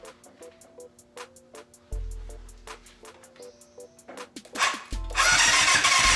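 A 1988 Yamaha FZ750 motorcycle under rebuild cranks several times with a whirring starter, then catches and fires into a loud, rough, spitting run, close by with no talk.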